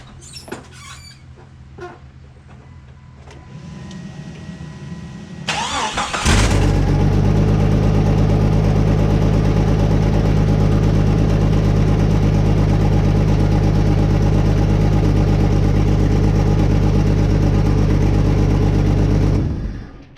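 A Jeep engine with its firing order off cranks over a quiet, scraping background, then catches and runs loudly at a steady, rough idle for about thirteen seconds before cutting off abruptly.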